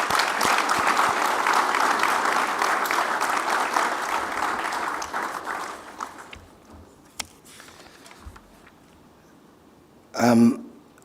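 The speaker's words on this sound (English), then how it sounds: "I think she deserves another round of applause." An audience at a Commonwealth foreign policy talk applauds a foreign minister, the clapping full for about six seconds before it thins out and stops, followed by a brief voice near the end.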